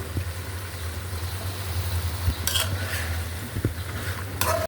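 Spiced potatoes and flat beans fry in a pan with a soft sizzle over a low steady hum, broken by a few scrapes and stirring knocks, ending in a sharp bump.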